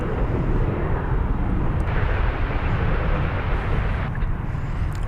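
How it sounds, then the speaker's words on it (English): An American Airlines Airbus A321 arriving from Seattle at Dallas/Fort Worth airport: a loud, steady jet engine roar with deep rumble, continuing unbroken with slight shifts in tone. "It was American Flight 1667 from Seattle, Washington, an Airbus"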